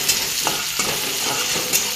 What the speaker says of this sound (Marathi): त्याच्यामुळे ह्याला मी हलवते सारखं।